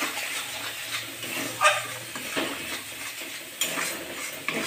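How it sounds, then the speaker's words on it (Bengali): A spoon stirs cumin and coriander powder into masala in a pan for shahi paneer, soft scraping and light clinks over a gentle sizzle, with a few sharper taps against the pan. "একটু জিরে আর ধনে গুঁড়ো দিয়ে আবার একটু করে মিশিয়ে দেবো মশলাটা"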